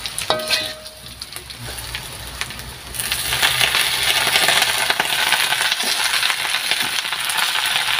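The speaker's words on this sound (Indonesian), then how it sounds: "Semuanya itu ditumis dulu deh" Tempeh sautéed in a pan for a coconut milk dish with katuk leaves, a dense, steady sizzle and frying crackle that swells and grows louder partway through, with a few clinks of a utensil against the pan.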